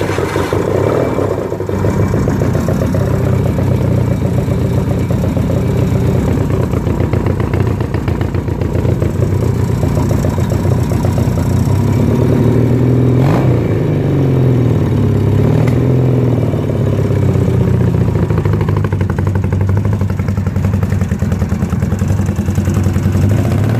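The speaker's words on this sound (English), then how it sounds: "There she is, we'll start her up. A little bit of choke." A 1979 Yamaha XS650 Special motorcycle on a cold start with choke: a loud, close, continuous engine run with a rough, throbbing idle and slight rises in revs through the middle, heard alone.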